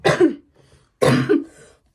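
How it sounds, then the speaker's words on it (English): Two rough coughs, each a pair of bursts, close and loud with a short silence between them, at a bowling alley. "I'm still getting over that cough."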